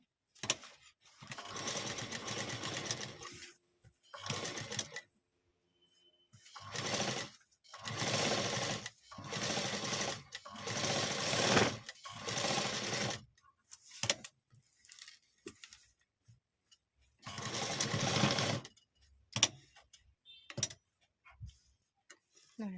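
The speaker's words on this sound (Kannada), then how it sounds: "ಮತ್ತು ಇವಾಗ ಈ ಕಡೆಯಿಂದ ಒಂದು ಸ್ಟಿಚ್ ಹಾಕೋಣ." A sewing machine stitches lace onto a readymade blouse in repeated loud close bursts of rapid whirring, each run lasting a few seconds and separated by silent pauses and small handling clicks.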